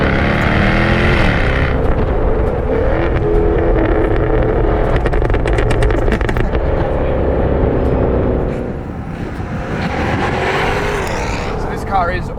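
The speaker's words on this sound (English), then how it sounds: "you can just tap your foot lightly on the throttle and you get these massive pops and bangs out the back of the exhaust" A 2017 Jaguar F-Type R's exhaust crackles and bangs with rapid sharp pops over a loud engine drone, close and under a voice talking throughout.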